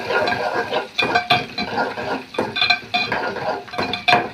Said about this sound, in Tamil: வெங்காயம் ஒரு மூணு வெங்காயம் ஒரு கொஞ்சம் புளி இதெல்லாம் சேர்த்து நம்ம நல்லா வதக்கி விடலாம்